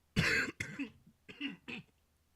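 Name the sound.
coughing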